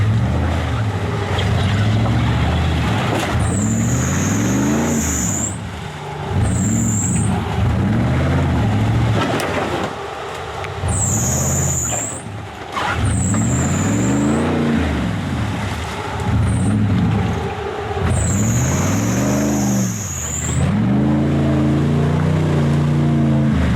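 An off-road race vehicle at the Insanity Fab Winter Challenge 2019, running with a bad tire and some body damage, roars loudly and continuously through its first lap, engine pitch rising and falling with repeated revs and shifts.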